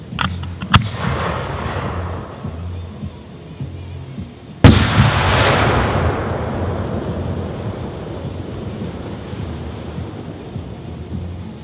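Firework shell, a gold strobe with blue pistol, bursting with a sharp loud bang followed by a long fading crackling wash, preceded by a faint launch thump and small pops.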